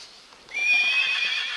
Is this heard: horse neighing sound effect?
yes